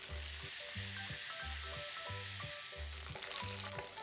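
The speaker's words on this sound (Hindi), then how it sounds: "अब यहाँ पे तेल गरम हो गया तो हम डालेंगे यहाँ पे खड़ा मसाला, और इसके बाद जीरा, अदरक, लहसुन, हरी मिर्च।" Whole spices, cumin, ginger, garlic and green chilli sizzle in hot oil, a steady close frying hiss with rhythmic low knocks of stirring underneath.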